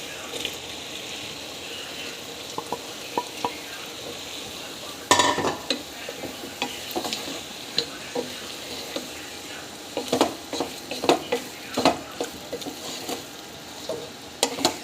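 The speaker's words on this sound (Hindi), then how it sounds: "अभी जो भिंडी हमने फ्राई की, ये अब हम इस मसाले में डाल देंगे सारे।" Fried okra is tipped into a sizzling masala with green chillies in a pan, a sudden clatter followed by a steady frying crackle and repeated spoon scrapes and knocks as it is stirred.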